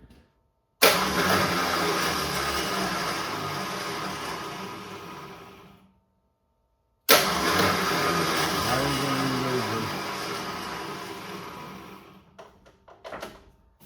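A Ford F100 truck's starter motor cranks the engine in two long, loud bursts separated by a brief silence, a steady whirring grind that slows toward the end of each attempt, followed by a few clunks.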